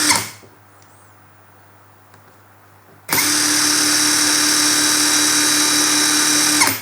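A Mollar CIW20350E cordless impact wrench spins freely in reverse at high speed, giving a loud, steady electric whine that starts abruptly after a quiet pause and runs evenly for several seconds.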